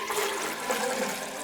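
Liquids poured together into a container make a brief steady splashing rush, like water running, close and moderately loud with no voices.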